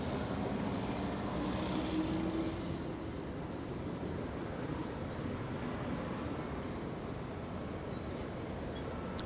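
Airliner lining up on the runway at Los Angeles International Airport, heard from a distance as a steady broad engine roar with a faint high whine that glides across, even and continuous without voices.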